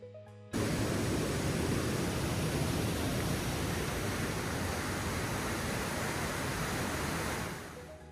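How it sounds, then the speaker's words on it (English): Canyon Falls, a waterfall in a canyon off a roadside park on Michigan's Keweenaw Peninsula, roars as a steady, loud, broadband rush of falling water that fills the scene without a break and eases slightly at the very end. "These waterfalls are just a short hike off a roadside park"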